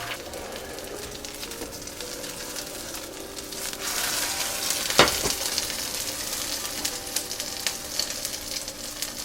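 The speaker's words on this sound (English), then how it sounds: "I prefer to crack my eggs into a soup cup and then into the pan I'm cooking them in." Eggs fry in a pan with a steady crackling sizzle that grows louder midway, marked by one sharp knock or clatter, close and continuous with no talk.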